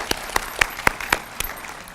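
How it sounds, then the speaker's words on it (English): A few sharp handclaps at a high school graduation ceremony, sounding at a steady, sparse rhythm, roughly four per second, rather than a full crowd ovation. They come through clearly with no voices. "And you should give yourselves a big round of applause."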